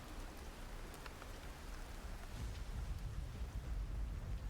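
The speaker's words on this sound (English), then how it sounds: "And the rain continues to fall." Rain plays as an ambience track during a tabletop role-play session, a soft, continuous patter on surfaces with a low rumble, steady and unbroken throughout.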